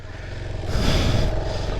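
A Bajaj Pulsar 220 motorcycle ridden on the road, its engine note rising into a louder surge of exhaust and wind rush midway, then holding steady, close to the microphone.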